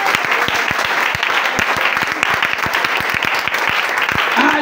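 A congregation at a church service claps steadily, a dense, close burst of many hands sustained for several seconds, with a few voices faintly mixed in.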